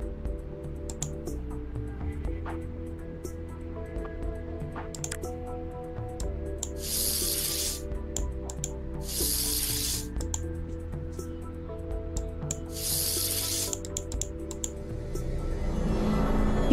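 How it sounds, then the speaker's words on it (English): Three short bursts of hissing ninhydrin spray in the game CSI: Hard Evidence, over steady electronic game music, each lasting about a second, with soft clicks scattered between. "use the ninhydrin spray to detect it"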